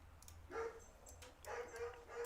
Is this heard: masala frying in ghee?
no